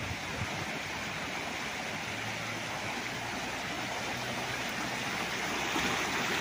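A creek flows on a rural farm property in Siniloan, Laguna, making a constant, even rush of water that stays unbroken and fairly soft throughout.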